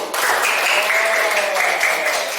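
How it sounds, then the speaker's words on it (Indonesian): A classroom of students applauds a presenting group during a biology lesson, a steady broadband wash of clapping lasting the whole stretch at moderate, even loudness with no talk over it. "tepuk tangan untuk kelompok 1."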